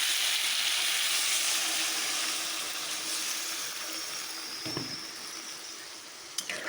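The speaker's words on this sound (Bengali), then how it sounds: "এই দেখো, এখন আমি দিয়ে দেবো জল।" Water is poured into a pan of pabda fish curry with its spiced base already fried down, setting off a loud, hissing sizzle that slowly softens, with a couple of light utensil clinks near the end.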